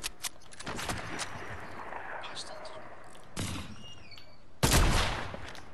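Gunfire from players fighting in the video game Fortnite, distant bursts and cracks scattered over several seconds with a louder blast near the end, against a noisy game background.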